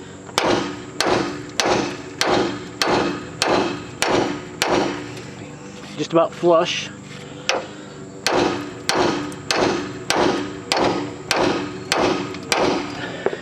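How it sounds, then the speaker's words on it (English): A large hammer strikes a ball joint on a Chevrolet TrailBlazer in a steady series of sharp, loud metallic blows, pausing briefly midway while someone speaks before the rhythmic pounding resumes. "I'm going to hit it a couple times with my bigger hammer."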